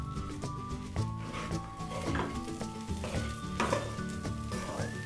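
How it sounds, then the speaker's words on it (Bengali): Rice mixed with spices, fried potatoes and fried prawns is stirred in a pan, with a brisk sizzle under repeated scraping strokes of a spoon at close range. "মশলার সাথে চালগুলো মিশিয়ে নেব। ভেজে রাখা আলুগুলো দিলাম। ভেজে রাখা চিংড়ি মাছগুলো দিলাম।"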